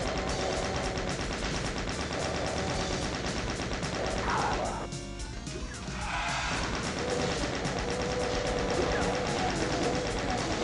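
Rapid chaingun fire in Doom 2, a steady, loud rattling stream of shots that dips briefly near the middle before resuming, with a voice talking over it.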